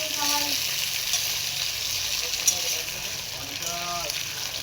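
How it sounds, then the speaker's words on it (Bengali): Potatoes frying in a pan, a steady broadband sizzle and crackle that holds throughout, with brief muffled voices or clatter passing underneath. "দেখো আলুগুলো ভেজে নিয়েছি।"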